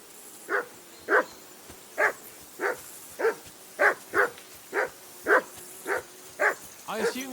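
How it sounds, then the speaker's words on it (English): A dog in the video game Kingdom Come Deliverance 2 barks about a dozen times at a steady, evenly spaced rhythm, moderately loud against a quiet background. "I assume you can hear that damn dog of yours barking."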